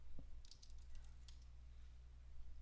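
Soft, quiet keystrokes tap on a computer keyboard in a brief scattered burst of a few clicks, faint over a low steady hum.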